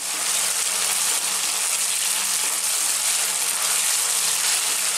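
Tofu frying in a pan for vegan fried rice, a steady, even sizzle with a bright hiss and no pauses, close and moderately loud.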